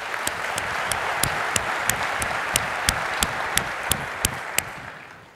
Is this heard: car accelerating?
no